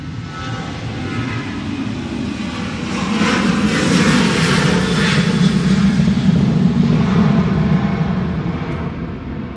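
A Ryanair Boeing 737 roars at Manchester Airport during a crosswind storm, a broad jet engine rumble swelling louder in the middle and then slowly fading, with no voices.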